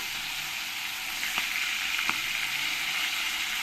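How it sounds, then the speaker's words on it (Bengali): Silver cup fish fries in a pan of hot oil, giving a steady close sizzle and crackle throughout with a couple of brief sharper pops, and no voices. "একটু হালকা কালার এলে এই মাছ ভাজাটা হয়ে যাবে"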